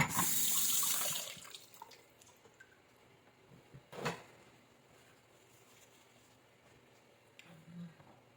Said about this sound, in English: So let's wash the onion.